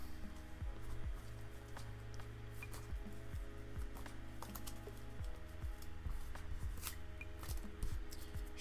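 Deck of Magic: The Gathering cards shuffled on a table, a series of quick riffling bursts with soft clicks, close and fairly quiet, alone.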